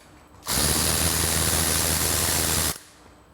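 Ratchet with a 10mm socket removing the exhaust from a Vespa Sprint/Primavera scooter, a single close, steady burst of fast mechanical whirring lasting about two seconds and stopping abruptly, with no talking.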